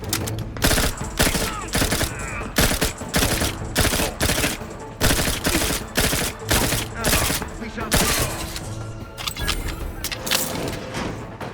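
Rapid bursts of gunfire fill a firefight in The Outer Worlds 2, loud and near, repeated shots stacking into dense volleys with brief gaps, mechanical clicks and clatter underneath.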